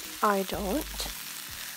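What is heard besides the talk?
stirring sliced French beans frying in a pan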